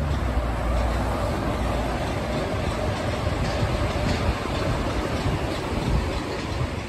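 A Paris metro train runs at Bercy, giving a continuous rumbling roar of wheels and carriages at moderate loudness throughout, with no clear speech.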